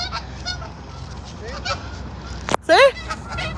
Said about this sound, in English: Fucking geese.